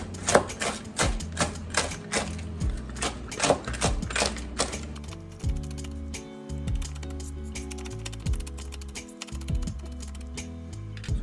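Knife chopping raw chicken pieces on a cutting board for a crockpot chicken corn chowder, a fast run of sharp, close taps in bursts, with a steady music-like tonal bed underneath and no talking.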